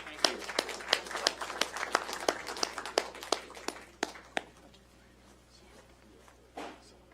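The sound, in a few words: applause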